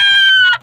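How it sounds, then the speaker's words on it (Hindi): A broody hen sitting on eggs gives one loud, close, drawn-out call with a rough edge, ending abruptly after well under a second. "ये देखें इसकी आवाज़ से आपको पता चल जाएगा कि ये दोस्तों कुड़क हो चुकी है"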